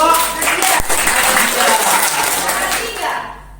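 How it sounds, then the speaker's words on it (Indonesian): A classroom group gets a burst of applause, brisk clapping that fills the room for a few seconds alongside voices, then fades away. "tepuk tangan untuk kelompok"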